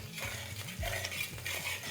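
A spatula scrapes and stirs through small onions in a frying pan while cooking sambar dal, with soft sizzling running underneath; no voices.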